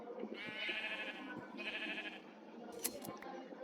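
Sheep in the video game Animal Craft bleat in two drawn-out calls, one after another, with small clicks and taps between them at low volume.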